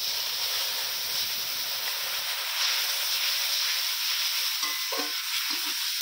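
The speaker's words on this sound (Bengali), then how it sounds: "মশলাটা যাতে না পুড়ে যায় দিয়ে দিচ্ছি জল" Water poured into hot frying spice paste with red chilli powder, cooking for a cauliflower and potato curry, gives a loud, steady hiss and sizzle that fills the whole stretch, with faint stirring clinks near the end.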